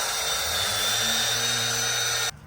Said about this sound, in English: I'm gonna wire wheel this down so it looks all nice.